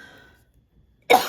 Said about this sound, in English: I'm so sorry for coughing all over you